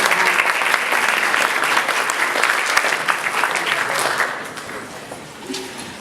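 Applause from a chamber of commerce audience at a mayor's state of the city address, a loud, dense round of clapping from many hands that holds steady, then tapers off in the final seconds.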